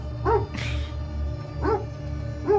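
A Great Dane in a scene from the film Maaveeran gives three separate deep barks, spaced about a second apart, over a steady low background hum.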